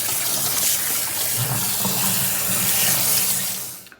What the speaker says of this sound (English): now we're just going to rinse with cold water